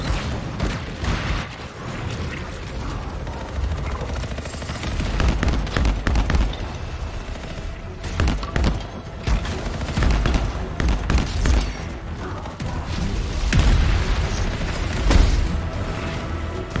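Gunfire from the video game Anthem rattles on in dense bursts with heavy booms and explosions, loud and continuous throughout, with no talking.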